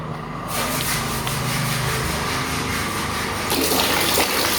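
Clear water gushes steadily from a 9-meter well, a loud continuous rushing flow that starts abruptly and holds for several seconds with no talking.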